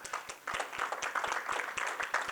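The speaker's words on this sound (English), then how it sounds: "a big round of applause is necessary" Scattered applause from an audience at a Land Bank People's Assembly, a quiet, uneven patter of claps with sharp individual hand strikes standing out, fairly soft and distant.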